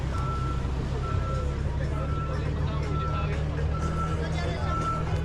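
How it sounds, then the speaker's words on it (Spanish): An excavator on a Playa del Carmen beach sounds its reversing alarm, evenly spaced beeps repeating steadily over a low engine drone while a person talks nearby. "aquí tenemos la excavadora que recoge las poquitas ramas que han recogido"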